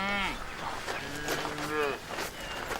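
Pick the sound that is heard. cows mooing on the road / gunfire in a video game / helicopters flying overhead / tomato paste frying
cows mooing on the road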